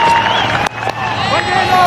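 A crowd of several thousand at a Bangladesh versus Australia cricket test match gives a broad cheering roar, with a brief dip partway through. The roar then swells again, and whistles and excited shouts rise above it.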